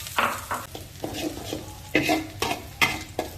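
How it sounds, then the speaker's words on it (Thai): Garlic frying in a pan, stirred with a utensil in a brisk rhythm of about eight scraping strokes over a light, close sizzle. "เจียวให้มันหอมเลยนะกระเทียมเนี่ย"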